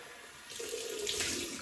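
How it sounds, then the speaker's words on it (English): Cold water runs from a tap to rinse a razor, a steady hiss that gets brighter and stronger midway as the flow meets the blade and sink. "Right, cold water rinse."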